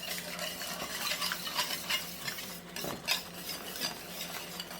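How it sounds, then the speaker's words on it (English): A whisk working flour into a thickening onion-based sauce for tuna casserole, a steady close scraping and swishing rhythm against the pan with a faint sizzle beneath, no voices. "Get that whisk in there and let it start absorbing that"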